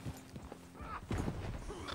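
In the Red Dead Redemption 2 video game, horse hooves clip-clop in a quick uneven rhythm, close and fairly loud, with game noise around them.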